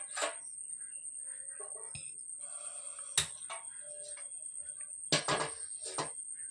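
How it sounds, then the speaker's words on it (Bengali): A wok set down on a lit gas stove in a home kitchen gives a couple of sharp metallic clanks against a quiet background, with small clatters in between. "কড়াই বসিয়ে দিলাম"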